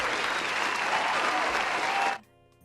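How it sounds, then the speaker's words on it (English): A small group gives a round of applause for a shy woman, with loud, close, dense clapping and a little cheering that runs steadily for about two seconds and then stops abruptly. "Let's give her a round of applause."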